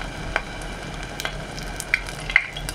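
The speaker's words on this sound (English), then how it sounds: "Nice sizzle." Catfish pieces frying in hot oil give a steady, close sizzle with faint crackles and a few sharper pops, no talking.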